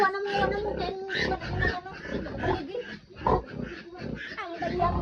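Pigs oink and grunt on a hillside farm as several tumble down, their calls mixed with excited people talking loudly throughout.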